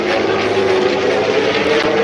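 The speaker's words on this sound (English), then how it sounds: "there's the jet planes" Jet planes roaring overhead inside a music track, a loud, dense, sustained engine rumble and whoosh with a tonal hum underneath.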